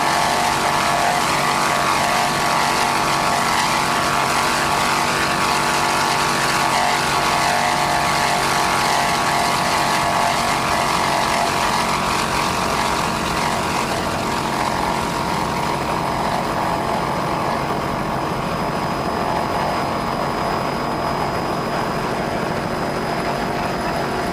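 Team Gulfwind, a 26-foot racing powerboat in Sarasota, Florida time trials, screams past at speed with a loud, sustained engine roar and rushing water and wind.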